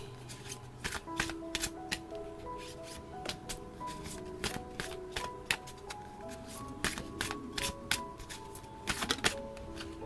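A tarot deck is shuffled and cards are drawn one by one, giving a steady run of crisp riffling and slapping card sounds with sharp clicks, close and fairly loud, with no voices.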